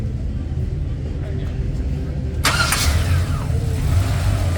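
A 1950 Chevy Sedan Delivery at an outdoor truck show catches quickly and rumbles to life after a quiet stretch, its engine settling into a steady idle while people chat nearby.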